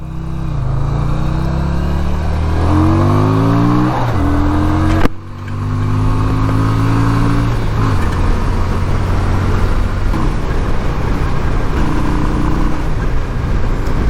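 A 1988 Yamaha Virago 250 motorcycle with a newly installed carburetor, its engine climbing in pitch through gear changes on a test ride, loud and steady close to the rider, with a brief dip at one shift.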